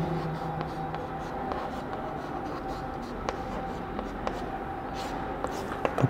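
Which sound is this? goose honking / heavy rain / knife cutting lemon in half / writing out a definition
writing out a definition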